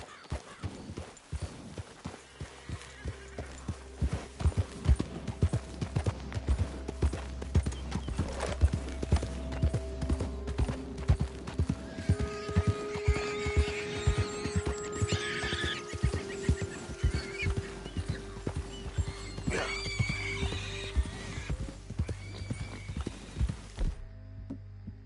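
Hooves clip-clop steadily on a hard surface close by, with a horse neighing partway through.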